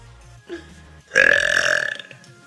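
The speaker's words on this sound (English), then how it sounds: "My burps are weak now. They sound like baby burps." A woman lets out a long, loud burp, preceded by a short small one, the main belch sustained and throaty for about a second close to the microphone, with no talking over it.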